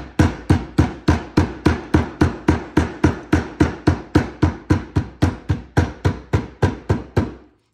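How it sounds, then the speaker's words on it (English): A flathead hammer taps leather lace flat along a buckstitched leather belt, a steady run of about twenty-five sharp, evenly spaced knocks, loud and close, with nothing else heard. "go back through here with the flathead hammer and just gently tap this lace down"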